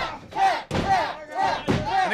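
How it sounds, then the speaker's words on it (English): A crowd at a live wrestling match chants in a loud rhythmic pattern, four repeated shouted syllables in even succession, filling the arena. "the crowd's chanting for the Basher to tap"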